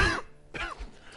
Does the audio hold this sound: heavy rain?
no